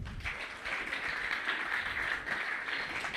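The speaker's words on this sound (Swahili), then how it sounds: "Mpigieni makofi." A crowd at a church youth seminar clapping continuously, a dense steady patter of applause filling the space, moderately loud and heard alone.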